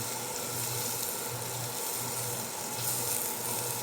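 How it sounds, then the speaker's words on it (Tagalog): Garlic sautéing in a pan for the Ilocano dish dininding, giving a steady, close crackling sizzle that holds at an even level throughout, with no talk. "So, lagyan na natin ng bawang. Gisa-gisa lang po."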